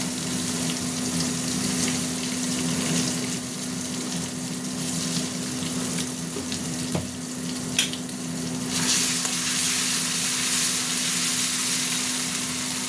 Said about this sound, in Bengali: হালকা করে একটু জল দেবো। মশলাটা কষা হতে থাক।